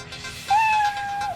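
A cat meows once in an animated cartoon, a single drawn-out, rising then steady tonal cry heard clearly and alone over a faint background.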